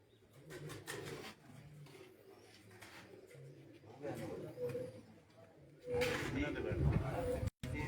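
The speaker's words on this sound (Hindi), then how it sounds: "कबूतर जो है बैठ चुके हैं।" Pigeons coo softly from a rooftop loft with a low, rolling burble as people chat nearby and background noise rises toward the end.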